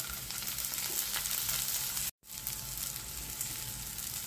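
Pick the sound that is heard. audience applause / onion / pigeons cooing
onion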